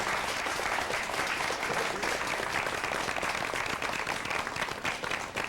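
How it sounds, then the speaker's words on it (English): Loud, continuous audience applause at a university faculty teleconference, a thick wash of many clapping hands that holds steady from start to finish. "You may clap if you want. Go ahead."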